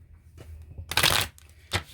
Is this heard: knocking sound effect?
no